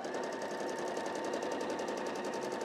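A sewing machine stitches a self binding on a quilted tablecloth, running in a steady, fast, even whir with no pauses, fairly quiet and alone.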